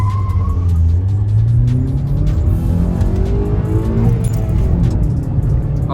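A Volkswagen Vento 1.6 TDI and a Honda Accord accelerating hard in a drag race, loud engine roar rising steadily in pitch through the gears with tire noise, no talking.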